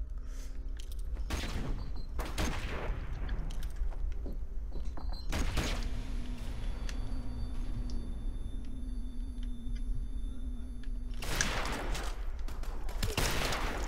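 Desert Eagle pistol shots and other gunfire ring out in Call of Duty: Modern Warfare Remastered during a cage match, several sharp, loud bursts spread across the stretch with game noise and a low hum between them.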